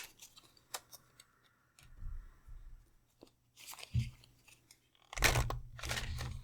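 Tarot cards shuffled by hand during a pick-a-card reading, a few soft riffles and papery slaps in uneven bursts, with a louder, denser flurry near the end.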